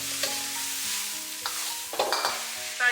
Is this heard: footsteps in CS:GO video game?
no